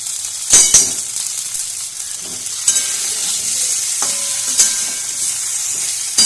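Half-boiled potatoes frying in a pan with salt, a loud bright hissing sizzle throughout, broken by a few sharp clinks and scrapes of a spatula against the pan, close up.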